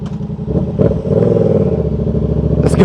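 A 1000cc motorcycle riding in traffic, its engine a steady loud rumbling drone with a slight rise in revs midway, close to the microphone with wind noise over it.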